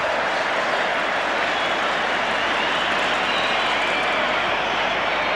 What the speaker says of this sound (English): This crowd wants something to cheer, and they're cheering everything that England do at the back